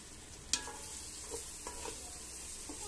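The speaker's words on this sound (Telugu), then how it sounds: "ఒకసారి కలుపుకుందాం." A spoon stirring chicken with biryani chicken masala in a hot pan, faint sizzling under a few soft scrapes and one sharper clink near the start, with no talking.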